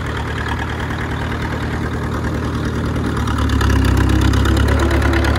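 Caterpillar D4 crawler tractor engine running loud and steady after starting, a low rumbling idle that grows louder and heavier about midway through, with no talk over it.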